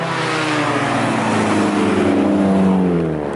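A Ferrari 458 drives past close by, its engine note rising and sweeping in pitch as it accelerates, loud and alone without talk.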